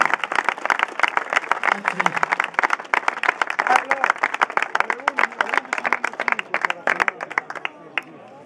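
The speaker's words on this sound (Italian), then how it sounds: "Grazie, un applauso per..." Applause from a crowd gathered outdoors for a motorcycle blessing at a motorcycle festival, dense clapping running steadily for several seconds, loud and close, with voices mixed in.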